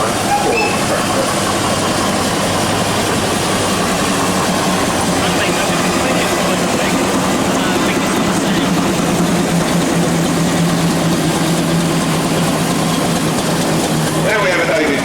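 Vintage tractor engine chugging steadily at a steam rally, a low continuous rumble with rhythmic pulsing, while someone talks over it throughout.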